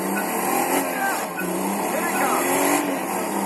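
A car drives in a racing video game played on a Dell Inspiron gaming laptop, with a steady, loud engine drone and occasional tire squeals, and a person talking over it.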